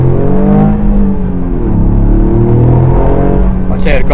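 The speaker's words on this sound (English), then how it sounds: "This is a pretty fast car." A fast car's engine hums and rumbles steadily from inside the cabin while driving, with a low droning tone that rises slightly near the end, and a person talks over it.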